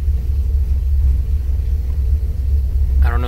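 Toyota AE86 with a 4AG engine idling at about 600 rpm on Megasquirt sequential ignition and injection, a loud, low, uneven lumpy rumble heard up close and steady throughout, with a brief voice at the very end.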